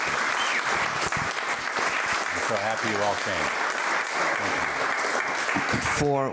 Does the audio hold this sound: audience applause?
yes